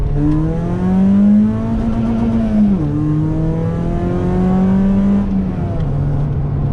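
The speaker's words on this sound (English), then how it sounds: "hit that rev limiter and hear the exhaust bouncing off the top end there" A car held against its rev limiter, the engine droning at a high steady pitch that dips and bounces back repeatedly as the exhaust hits the top end, loud and close.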